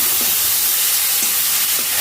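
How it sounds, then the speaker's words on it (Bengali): Onion, tomato and green chilli frying in a pan, stirred well while cooking for chana matar, giving a steady soft sizzle with a few faint scraping strokes of the spoon. "ভালো করে নেড়ে নিচ্ছি"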